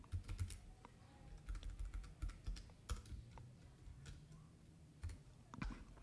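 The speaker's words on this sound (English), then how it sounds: "now I can simply type it here." Typing on a computer keyboard while a laser-cut garden plant marker is being designed, with irregular bursts of close, light key clicks separated by short pauses.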